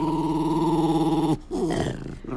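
Low, drawn-out dog growl from a played video, a sustained rumbling snarl that breaks off and turns into rougher, wavering growling noises, with no talk over it.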